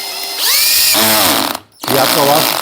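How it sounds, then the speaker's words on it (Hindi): A loud, close cordless drill whirs driving a screw, then grinds in a rough ratcheting burr as the clutch slips at the surface, cuts out briefly, and grinds again. "ये आपको आवाज़ सुनाई दे रही है, ग्रर ग्रर। इसका मतलब है ये बस सरफेस पे आई और ये रुक गई।"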